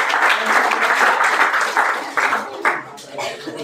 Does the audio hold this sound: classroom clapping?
yes